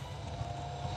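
A propeller-driven model airplane engine drones steadily and loudly at constant power, in rain, with a faint wavering throb and no voices.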